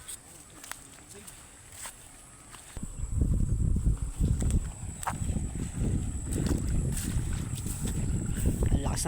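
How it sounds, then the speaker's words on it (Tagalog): A strong river current rushes and churns around a small boat, a loud low rumbling wash that surges in about three seconds in and keeps going unevenly to the end. "Lakas ng agos."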